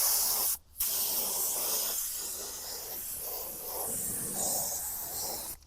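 An HVLP spray paint gun lays down a coat with a loud, continuous airy hiss, broken by a brief cutoff near the start and stopping again at the very end.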